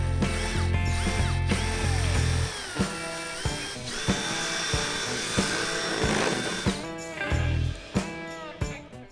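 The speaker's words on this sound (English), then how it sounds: "we have this amazingly big drill to give us a pilot hole to start with" A large power drill bores a pilot hole for a bull bar install on a 2019 Dodge Ram truck, whirring in bursts of grinding and ratcheting with sharp clunks between runs.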